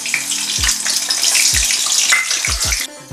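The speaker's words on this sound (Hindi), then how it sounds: "तो मैं इसे आलू को भी फ्राई कर ले रही हूँ।" Halved potatoes fry in hot oil in a pan while chicken biryani is being made, a steady broad sizzle and hiss that runs throughout, punctuated by several low knocks and thumps from the pan.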